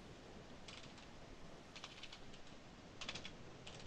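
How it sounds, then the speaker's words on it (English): Faint, fast typing on a computer keyboard in short bursts of clicks, pausing between clusters, heard close over a low steady background. "Can't type, guys."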